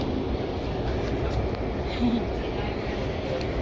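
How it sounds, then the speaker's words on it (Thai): A steady low rumble of a train at an underground station runs throughout, with a continuous mechanical drone and faint rattling, while people talk over it. "รถไฟแล้ว"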